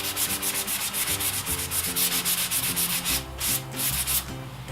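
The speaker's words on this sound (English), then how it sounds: "use that sandpaper and just apply as much pressure as you need to get some paint removal" Sandpaper is rubbed back and forth to distress paint on a wooden dresser, making a close, rhythmic scratching with roughly two strokes per second that stays steady throughout, with no voices.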